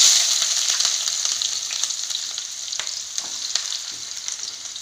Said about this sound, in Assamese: আমি এতিয়া দিম ইয়াতে পিঁয়াজ